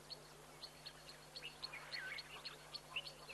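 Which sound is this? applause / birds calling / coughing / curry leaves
birds calling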